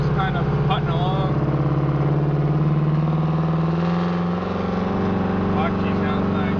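A straight-piped Detroit Diesel 8V71 engine drives along at a steady, moderate pace, giving a deep rumbling drone with a slight pitch rise and fall. Faint voices can be heard briefly.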